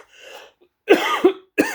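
A man who is ill with a dry throat coughs three times in a row. A faint throat sound comes first, then loud, close, harsh hacking bursts with short gaps between them.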